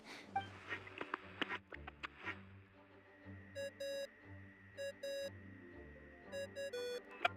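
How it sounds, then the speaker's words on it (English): In the video game Genshin Impact, a bright electronic ringing tone repeats in short bursts of several pulses, with soft game sounds and clicks between. "What's that ringing?"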